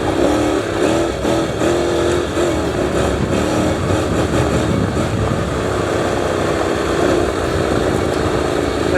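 A DCT street motorcycle being ridden on a slippery, low-grip road, its engine droning loud and steady throughout with wind roar and small shifts in pitch as gears change.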